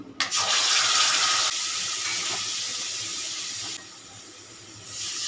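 Water is poured into a pan of curry for lauer dhokar dalna, a vegetarian bottle gourd dish, giving a loud, steady rushing hiss that fades a little midway and drops lower toward the end, with no talking.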